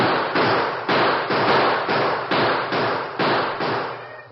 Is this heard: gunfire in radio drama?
yes